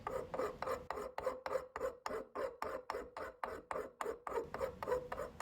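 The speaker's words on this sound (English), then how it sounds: "The handle assembly had some rough casting on the bottom of the cast iron portion, so just file down the rough castings." A hand file rasps over rough casting on the cast iron portion of a woodworker's bench face vise handle, in steady back-and-forth strokes, about three per second, close up with no talk.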